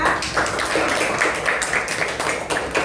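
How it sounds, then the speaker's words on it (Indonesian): A class gives a round of applause for a student named Adifa after a correct answer, a dense, steady patter of many hands clapping at moderate loudness with no one talking over it. "Tepuk tangan untuk Adifa"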